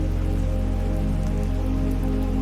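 Steady rain falls in an even, continuous wash of dense patter with no pauses and no voices.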